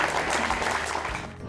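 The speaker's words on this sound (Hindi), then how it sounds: "आइए जोरदार तालियां हो जाए इनके लिए भी।" A studio audience applauds a quiz show contestant, a dense, steady burst of clapping at full level that tapers slightly toward the end.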